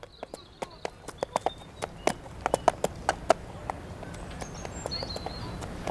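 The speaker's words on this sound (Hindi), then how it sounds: "जल्दी करो आर्थर, मेरा घोड़ा लेकर आओ" Horse hooves clip-clop in an uneven walking rhythm of sharp, fairly close knocks, with faint bird calls in the background.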